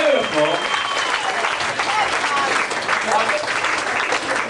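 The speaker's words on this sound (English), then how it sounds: "A large round of applause for these guys." Crowd applause and cheering at a hot dog eating contest in a bar, loud and close, with whoops and voices mixed into dense clapping that holds steady for several seconds.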